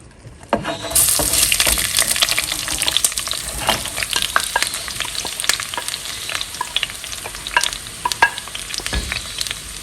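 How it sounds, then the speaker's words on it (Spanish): Onions hit hot oil in a pot and break into a loud, close, continuous sizzle that keeps crackling with scattered pops, with occasional stirring scrapes. "Las vamos a sofreír y necesitamos que queden totalmente suavecitas y flexibles."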